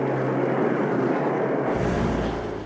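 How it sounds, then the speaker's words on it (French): Heavy drone of Lancaster bomber aircraft flying over Le Havre, a deep, steady, loud roar of piston engines holding at even strength before easing slightly near the end. "Ce sont des vagues de bombardiers Lancaster qui partent à l'assaut du Havre."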